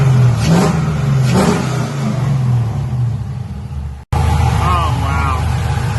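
LS1 V8 swapped into an S13 Nissan 240SX revs up repeatedly in rising, loud bursts, settling between blips into a rumbling idle, with people talking nearby over the engine.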